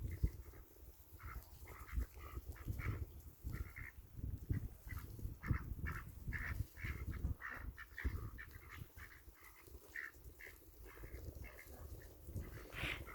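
Ducks quacking nonstop in a steady, busy chorus at moderate distance, soft overlapping calls against faint outdoor background, with no talking.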